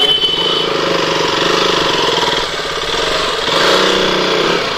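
A motorcycle engine runs steadily at a paid parking area in Lucknow, a loud close mid-pitched putter with a fast regular pulse and a slight rise near the end, while a person talks over it.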